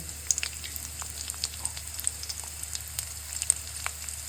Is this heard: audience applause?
no